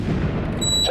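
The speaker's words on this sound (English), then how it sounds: "This is the sound of artillery." A single heavy artillery round fires during a joint US Marine and Republic of Korea Marine exercise, a deep booming blast followed by rumbling that fills the short moment.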